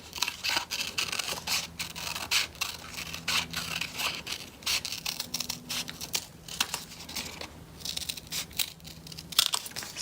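Scissors cut the details of a paper apple corner bookmark with close, steady snips and crinkling paper rustles that continue throughout.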